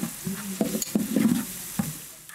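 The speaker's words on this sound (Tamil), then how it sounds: "வதக்கிட்டே இதில் வந்து நம்ம இஞ்சி பூண்டு பேஸ்ட்டை வந்து ஆட் பண்ணிக்கலாம்." Onions, tomatoes and ginger-garlic paste sauté in a pan for beef biryani, giving a steady close sizzle broken by several scraping stirs of a spoon against the pan.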